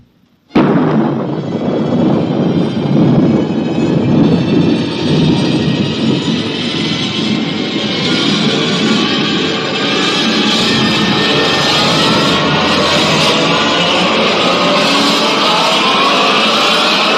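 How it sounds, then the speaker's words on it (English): A rocket blast-off effect from an old-time radio science-fiction drama: one sudden explosive ignition, then a loud, sustained roaring rumble that swells and slowly rises in pitch as the rocket climbs. "Countdown for blast off."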